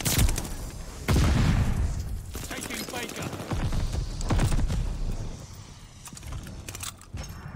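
MP40 submachine gun in Call of Duty: Vanguard firing in rapid bursts, several sharp stuttering volleys close by with pauses between, plus other gunfire and game sounds.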